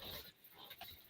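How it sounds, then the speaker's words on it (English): A dog a few houses away gives a brief, faint bark or two, distant and muffled against quiet background noise. "Just heard another dog a few houses up."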